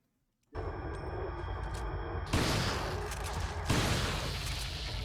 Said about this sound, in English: That's a lot of bullets